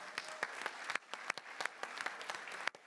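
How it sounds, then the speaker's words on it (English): Audience applause at a city's State of the City address, many hands clapping in a steady dense patter with sharper individual claps standing out, fairly close and continuous for the whole stretch. "we really need to give a huge round of applause to Sue Burness and her staff and Nicole"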